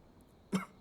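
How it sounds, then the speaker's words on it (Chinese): A man gives a single short, muffled cough in a quiet room, brief and fairly close. "还是咳嗽不止，难以安寝"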